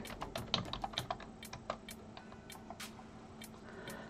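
Fingers typing on a computer keyboard, a quiet run of crisp key clicks, quicker and bunched at first and then sparser, close by, with no talking.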